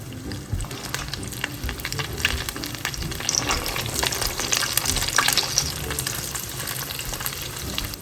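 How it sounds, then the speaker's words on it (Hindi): Chicken cheese rolls frying in oil on medium-low heat, a loud, close, bubbling sizzle with crackles and occasional clinks, steady for several seconds without speech. "तो चलें अब हम इन्हें फ्राई करते हैं।"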